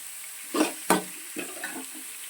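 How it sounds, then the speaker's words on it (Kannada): Onion lightly frying in a pan for hotel-style Schezwan fried rice, a few short sizzling bursts and stirring scrapes close by over a quiet background. "ಸ್ವಲ್ಪ ಈರುಳ್ಳಿ ಗೋಲ್ಡನ್ ಕಲರ್ ಬರೋ ತನಕ ಲೈಟಾಗಿ ಫ್ರೈ ಮಾಡ್ಕೊಳ್ಳಿ."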